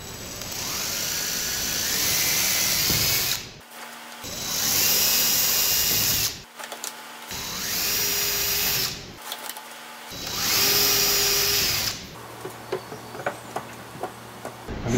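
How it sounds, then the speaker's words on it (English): A power drill whines loudly in four long bursts into wood blocks while building an arcade cabinet, each separated by brief pauses, then a quieter stretch with light ticking and tapping. "I'm going to drill through these just enough to put a little hole in the blocks behind it"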